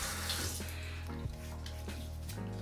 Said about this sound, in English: So I'm gonna wet my face.